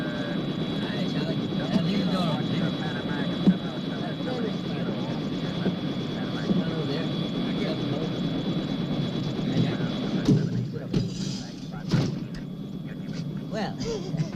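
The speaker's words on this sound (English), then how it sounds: "Mr. President, isn't that your helicopter over there?" A helicopter in a television drama, heard as a steady, droning engine and rotor hum that runs underneath continuous talking, then gives way to fainter background noise near the end.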